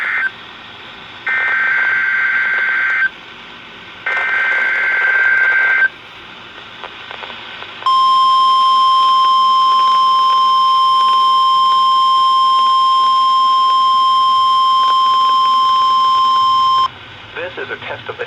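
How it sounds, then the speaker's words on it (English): National Weather Service weather radio warning alarm test tone: two short beep bursts, then a long steady high-pitched alert tone lasting about nine seconds, loud and close, with faint broadcast audio around it. "This is a test of the National Weather Service weather radio warning alarm for WWG-57 for the Central Highlands of Ohio."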